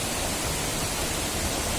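Water rushes steadily down the Bishnu Dwar waterfall in Shivapuri National Park, an even, enveloping roar of noise with no other sounds.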